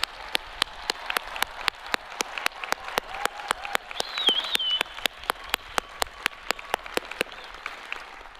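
At Miami University's 2025 spring commencement, a crowd applauds the graduates in a sustained, dense clatter while loud, evenly spaced claps ring out close by, with a whistle or cheer rising briefly in the middle.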